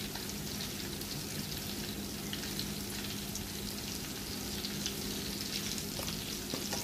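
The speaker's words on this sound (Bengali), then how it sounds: "পেঁয়াজটা ভাজা হয়ে গেছে" Onions fry in hot oil in a pan, producing a dense, constant sizzling hiss close by, with no talking over it.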